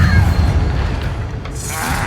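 A Bombarda blasting spell detonates in the Hogwarts Legacy game, a loud deep boom that opens the moment and rumbles on for about two seconds before a brighter crackling tail.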